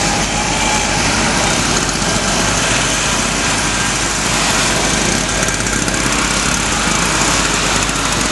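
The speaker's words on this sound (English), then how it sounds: "Riding a motorcycle on a pedestrian pavement." A motorcycle ridden along a pedestrian pavement, its engine a steady, loud, high-pitched drone that holds close and continuous throughout with no voices.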